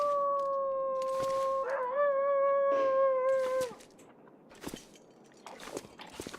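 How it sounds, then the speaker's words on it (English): A drawn-out canine howl, dog or wolf, rises and wavers for about two seconds in the survival video game The Long Dark, clear and fairly close, followed by scattered footstep-like thumps. "Sounds like the neighbor's dog is howling again."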